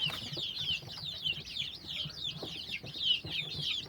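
Newly hatched kampung chicken chicks peep continuously inside a used aquarium, a busy chorus of high, chirpy calls at fairly low volume with faint bumps and scratching beneath.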